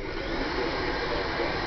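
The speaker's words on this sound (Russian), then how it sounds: "О, чудо-фен." A steady, loud whooshing hair dryer hum runs without a break, close by, on full power, used to fan a barbecue grill.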